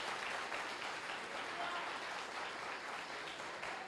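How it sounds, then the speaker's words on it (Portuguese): A church congregation applauds during a worship service, a soft, continuous patter of many hands that sounds fairly distant and steady throughout. "Aplauda, que não é para mim,"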